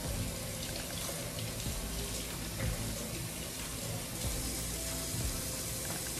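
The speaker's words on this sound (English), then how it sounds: "we'll take these green onions out and we're going to rinse these off really well" Green onions being rinsed under a running kitchen tap, a steady broadband rush of water splashing into a sink, loud and continuous with no talking.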